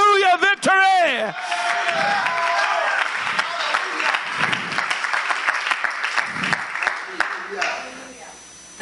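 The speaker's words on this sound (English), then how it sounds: "Somebody give the Lord a hand clap of praise with the shout, hallelujah, victory." A church congregation at a Pentecostal Sunday service claps hands and shouts praise, with a sustained burst of dense applause and raised voices following a loud voiced cry at the start.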